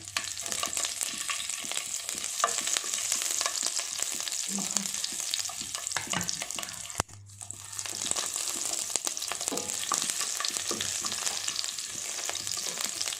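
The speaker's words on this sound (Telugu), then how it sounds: "ఆయిల్ వేడెక్కాక ఒక రెండు మూడు పచ్చిమిరపకాయలను వేసేసుకోవాలి" Green chillies fry in hot mustard oil for a country chicken curry, giving a steady loud sizzle with stirring scrapes and a brief pause midway.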